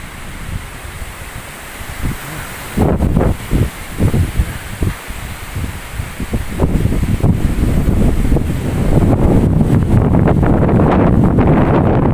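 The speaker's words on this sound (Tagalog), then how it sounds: "talaga nga namang napakalakas ng hangin dito" Strong typhoon wind in the Philippines roars and buffets the microphone in loud gusts, rising to a constant heavy rush with rustling.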